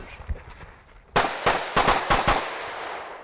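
Pistol shots fired during a competition shooting run in the desert, with about five sharp, loud reports coming in a fast, slightly uneven burst after a quieter lead-in, close and with no talking.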